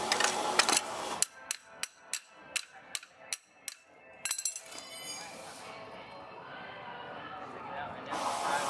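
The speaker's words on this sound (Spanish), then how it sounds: "metemos una llave, le damos unos golpes porque está." Blows from a wrench strike the front shock spring of a Toyota Tercel during a strut replacement, a run of about eight sharp metallic knocks in quick succession, close and clear, followed by softer handling noise.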